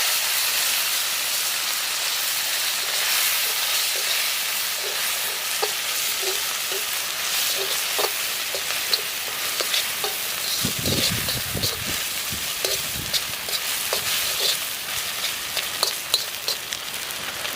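Goat head curry cooking in oil with garlic and turmeric, a continuous hissing sizzle with scattered pops and occasional spoon clinks and stirring, growing busier toward the end.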